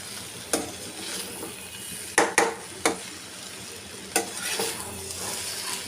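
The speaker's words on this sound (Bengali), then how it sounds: "তোমরা আবারও ভালো করে নেড়ে দিবে এইভাবে।" Pieces of papaya fry with a steady sizzle in a pan while a spoon stirs them, giving several sharp scraping knocks against the metal at uneven intervals.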